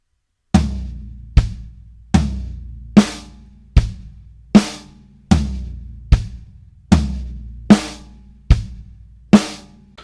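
Drum kit playing a sixteenth-note triplet fill very slowly, with about a dozen evenly spaced, separate hits that ring out between strikes, close and loud.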